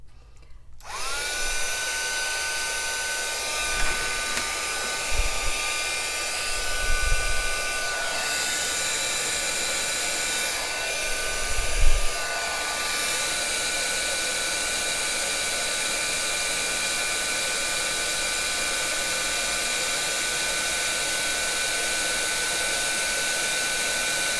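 Heat gun switched on to melt embossing powder, a loud steady whirring blow that starts abruptly and holds for over twenty seconds, with a few faint bumps and handling sounds near the start.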